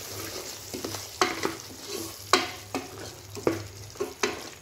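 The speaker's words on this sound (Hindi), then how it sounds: "अब इसको 2 मिनट तक भून लेंगे।" Mutton masala with coriander and cumin powder roasting in a pan for bhuna gosht, stirred with a spoon: sharp scraping strokes at an uneven pace over a steady low sizzle, close and moderately loud, no talking.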